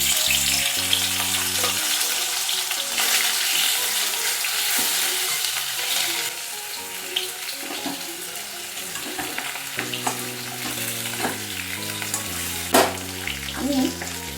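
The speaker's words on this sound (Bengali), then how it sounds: "তেলের মধ্যে আমি মাছগুলো হালকা করে একটু ভেজে নিচ্ছি।" Hilsa fish pieces frying lightly in hot oil for a Bengali fish curry, a steady crackling sizzle with occasional spatters and pops, close up, with background music running throughout.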